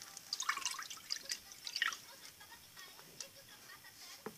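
Water is poured in small, splashy dribbles, heard close and quiet as scattered drips and trickles with no talk.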